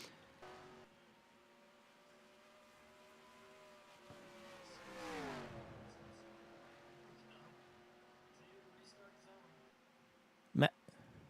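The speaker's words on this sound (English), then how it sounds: "Those three Toyotas take off going into turn one" Toyota race cars in a racing video game at Rockingham, engines whining and rising in pitch as they accelerate, one car sweeping past near the middle, faint under steady background hum, with a sharp clack near the end.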